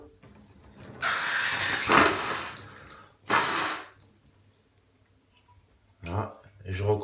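A trumpet is emptied of water during cleaning, with bursts of gushing, splashing water and gurgles in separate pulses, close and fairly quiet, broken by short silences.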